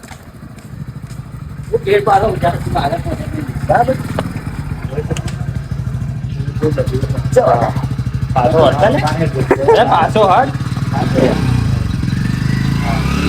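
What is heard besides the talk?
motorcycle riding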